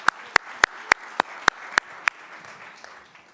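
Several sharp, evenly spaced claps ring out at a steady beat, eight or so strong hits followed by a few fainter ones trailing off, close and clear with no talk over them, a small-scale round of applause.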